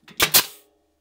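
Two quick, sharp staple shots fire into wood while a simple production jig is being built, close and loud, followed by silence.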